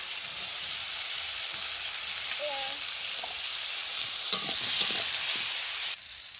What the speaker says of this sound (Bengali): বেশি ভাজবো না আধ ভাজা করে ভাজবো